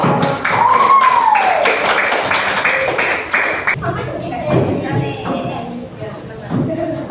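Rapid group clapping in rhythmic bursts for a few seconds, with a whistle-like tone and voices, then scattered claps and chatter.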